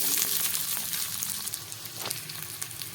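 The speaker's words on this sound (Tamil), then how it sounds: "வெங்காயம் பூண்டு வதங்கிட்டே இருக்கையில் பார்த்தீங்கன்னா 4 வரமிளகாய் சேர்த்துக்கலாம். நல்லா வதங்கட்டும்." Onions, garlic and four dried red chillies frying in a pan give a steady close hiss and crackle of hot oil, with faint stirring beneath, and no speech.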